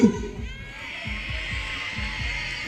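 Young fans of Sai Bua Club Chiang Mai cheer and shout together at an under-11 seven-a-side football final, a broad sustained roar with rhythmic thumping beats underneath.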